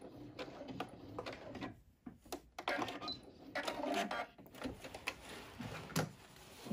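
A sewing machine runs in short clattering bursts while stitching and back-tacking a skirt hem seam, a fairly quiet, close, rhythmic mechanical whir interrupted by brief pauses.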